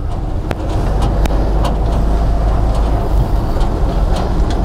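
The engine of a 1952 ZiS MMZ-585 truck, started after two years standing idle, runs with a loud, steady low rumble close by, broken by a few sharp clanks or ticks.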